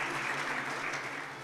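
An audience applauds at a Thursday-thought community program in Surat, greeting a woman guest with steady, dense clapping that fills the short moment without a break.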